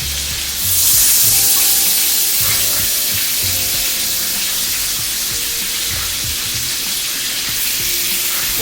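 Chicken pieces laid fat side down in a hot pan fry with a loud, steady sizzle and crackle that runs unbroken from start to finish, with faint tonal clinks underneath.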